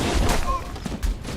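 Gunfire in a Halo video game: rapid bursts of shots pop in quick succession, fairly loud and close, mixed with a brief voice under the shooting.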